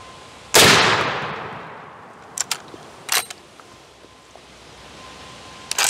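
Full-power .45-70 rifle fires one loud, sharp gunshot at an outdoor range, and the boom decays slowly. A few fainter distant shots or impacts follow, with no talking.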